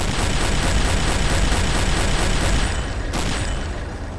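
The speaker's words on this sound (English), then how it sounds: "Oh, more explosions on board." Explosions aboard a ship in the submarine game Silent Hunter 3, a dense, continuous rumbling boom with repeated bursts throughout, loud and close, with one sharper blast near the end before it eases slightly.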